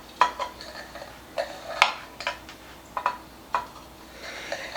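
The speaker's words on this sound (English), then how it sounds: "I push the knife down a little bit and then I go back and follow that line" Knife pressing down through lemon bars in a baking pan, a series of light clicking taps as the blade meets the pan, spaced irregularly, close and fairly quiet.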